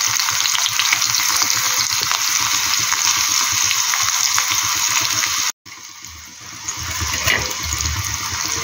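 Greens with chopped green chili sizzle loudly in hot oil in a pan, a steady crackling hiss that drops sharply after a brief cut, then continues more softly with some stirring.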